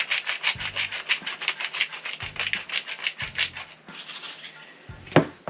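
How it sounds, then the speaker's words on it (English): A combined salt and pepper grinder being twisted, giving repeated dry rasping crunches in short bursts with brief pauses, close and fairly loud. "In here we've got both salt and pepper in the one grinder"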